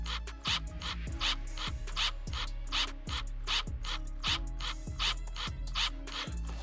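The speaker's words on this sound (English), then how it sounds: "So I'll take that one off and just start taking all the screws out." Rhythmic ratcheting clicks repeat in short bursts, close and fairly quiet, as a screwdriver backs screws out of the underside of an HP 15 laptop during a hard drive repair.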